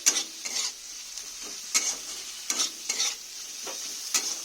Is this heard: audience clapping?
no